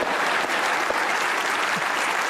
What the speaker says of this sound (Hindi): इनके लिए एक बार तालियां हो जाए।